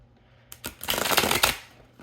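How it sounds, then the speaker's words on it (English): A deck of cards is riffled in a quick shuffle, a dense burst of flapping paper clicks building over about a second before settling, close and fairly quiet with no voices. "let's go ahead and give these a quick old shuffle"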